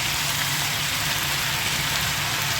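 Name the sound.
Malabar spinach added to pan with frying onion and garlic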